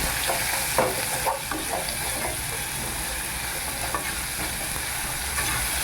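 Steady sizzling of garlic frying in a pan with occasional stirring scrapes, close and continuous without any talk.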